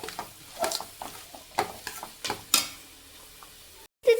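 Prawn biryani masala with Kashmiri chilli being stirred in a pan, a series of irregular scraping strokes over a low sizzle, ending in a brief silence and one more knock.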